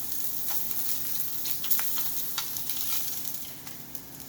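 Salmon sears in a frying pan with a steady, close hiss of sizzling oil and occasional small pops and crackles, continuous throughout with no voices.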